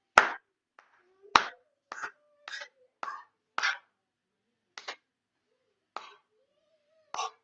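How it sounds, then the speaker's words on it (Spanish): Sharp hand claps ring out alone in an indoor room, spaced irregularly, sometimes in quick pairs, setting a beat for children's jumping exercises, with short faint noises between some claps. "Solo al ritmo de los aplausos."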